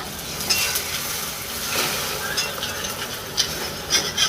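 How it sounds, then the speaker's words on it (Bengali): A beaten egg fries in a pan, with soft sizzling under repeated scraping and stirring of a utensil against the pan. "তাই আমি ডিমটা ভেজে নিচ্ছি"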